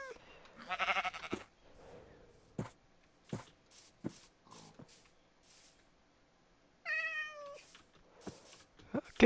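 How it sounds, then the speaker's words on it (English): Minecraft cat meows sound in a few short, clear calls between sparse game noises and occasional quiet speech. "Come on, kitty."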